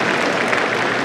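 Dense, steady applause from a large convention audience at a Lions International gathering, continuous and fairly loud throughout with no clear breaks.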